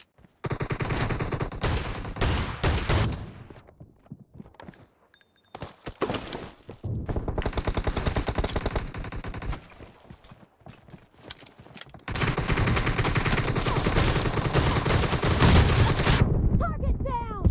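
Rapid gunfire from a shotgun and other weapons in a PUBG Mobile team deathmatch, loud bursts in dense clusters with brief lulls, the heaviest sustained stretch near the end.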